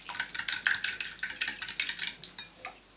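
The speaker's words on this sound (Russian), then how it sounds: "Теперь добавляем сюда дрожжи, соль и сахар. Все хорошо расколачиваем" A whisk or spoon beats yeast, salt and sugar in a bowl for pizza dough, making quick rhythmic clinks and scrapes against the side of the bowl, close and steady with no voices.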